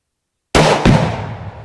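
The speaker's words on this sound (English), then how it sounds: "Shooting exploding rifle targets can be a lot of fun" An exploding rifle target detonates with a sudden, very loud blast that breaks a dead silence, then a second sharp crack follows at once and the boom rolls away in a long, fading outdoor echo.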